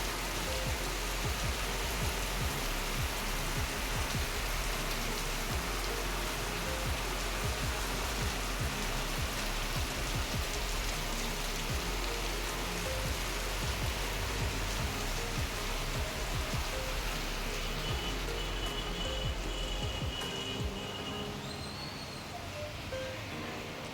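A heavy downpour keeps up a dense, unbroken wash of rain noise for the whole stretch. It is moderately quiet and uniform, with a faint rushing-water quality and no speech.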